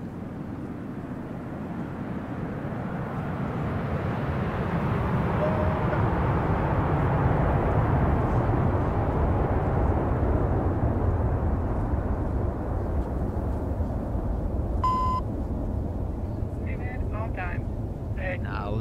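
Red Arrows jets flying the synchro pair display at an air show, a loud sustained jet roar that swells and lingers, broad and rumbling, with a brief tonal beep near the end.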